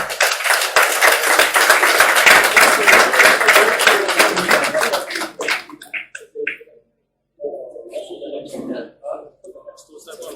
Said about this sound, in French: Je me permets de vous demander d'abord de vous applaudir vous-même.